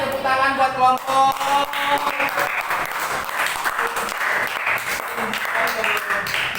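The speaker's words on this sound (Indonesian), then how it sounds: "tepuk tangan buat kelompok" A crowd applauds steadily for several seconds after a group presentation, clapping blending into a continuous patter, with voices and cheering mixed in.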